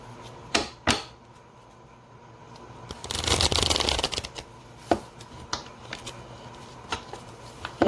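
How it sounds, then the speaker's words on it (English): A deck of playing cards is riffled and shuffled nearby, a dense crackling burst lasting about a second, surrounded by sharp taps and clicks of cards being handled on a table. "I shuffled these cards already."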